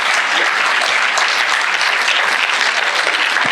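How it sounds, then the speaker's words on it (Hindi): Dense, steady audience applause fills the room at a DevFest Gandhinagar 2023 tech talk, loud and close, with many hands clapping continuously and no pause. "सबके लिए एक बार जोरदार ताली हो जाए"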